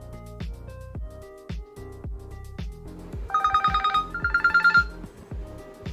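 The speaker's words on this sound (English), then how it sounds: "One awesome feature I found was the anti-theft feature, which trips the alarm if someone removes the charger or SIM card when phone is locked." An anti-theft alarm on a Realme P4 smartphone sounds a loud, bright electronic pattern of rapid repeated beeps in two bursts, coming in over a steady rhythmic thumping beat.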